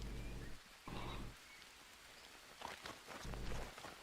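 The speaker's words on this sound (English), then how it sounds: "because it's rainy season and we're out in the rain, we're getting washed as we walk around" Rainy-season rain in the survival game Green Hell falls as a steady, soft hiss, with footsteps squelching through it and a few low thuds in bursts across the scene.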